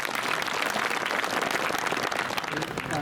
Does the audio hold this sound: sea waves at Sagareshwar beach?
no